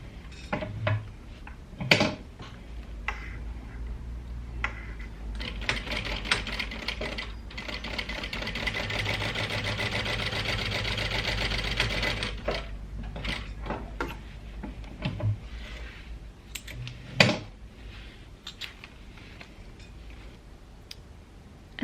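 A Jack H2 sewing machine stitches through folded layers of vinyl in a steady, close, continuous mechanical whir with rhythmic needle ticking, framed by a few sharp clicks and handling knocks before and after the run, with no talking.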